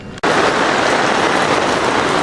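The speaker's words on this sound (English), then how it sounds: "it's raining pretty good" Steady, dense rain falls outdoors during a home beer brew, a loud, even hiss of drops on surfaces that begins abruptly and continues unbroken with no voices.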